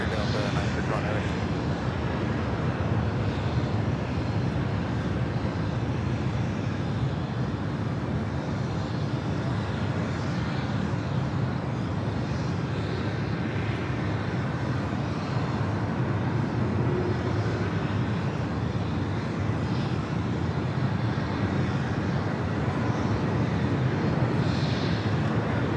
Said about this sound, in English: Flight heading to Detroit, 737-900 ER, Delta Airlines flight 802